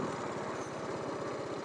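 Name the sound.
TVS Apache RR310 motorcycle engine while shifting gears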